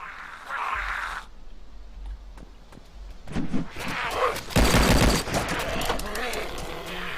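FN FAL assault rifle fire in the video game DayZ against a zombie horde, loud bursts and rapid shots growing denser toward the end, with sharp clicks and handling noises between volleys.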